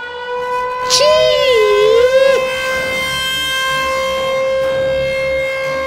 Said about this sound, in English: Our next alarm comes from the United States of America.